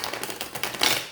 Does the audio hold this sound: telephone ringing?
no